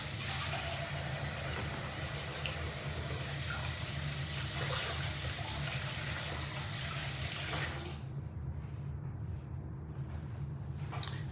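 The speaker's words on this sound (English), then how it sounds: "Let me wash my hands real quick." Hands being washed under a running tap, a steady loud rush of water for several seconds that suddenly drops to a softer flow near the end, with no talking.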